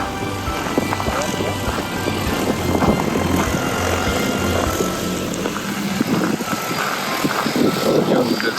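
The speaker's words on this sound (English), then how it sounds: "So we've got 2 drones out there right now." Two DJI Agras T50 agricultural spray drones fly together outdoors, giving a steady propeller drone hum over continuous wind-like noise, with a voice talking over it.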